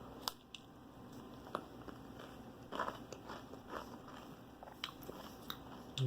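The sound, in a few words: munching on a Jack's supreme pizza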